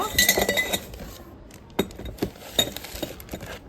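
A copper pot and metal pooja items for an aarti ritual clink and rattle as they are handled, with sharp, close metallic chimes and scrapes, several distinct knocks spread through the clip.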